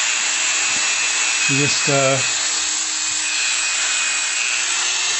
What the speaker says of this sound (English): So we have to go underneath it and cut the leg off. Pretty easy with a Dremel.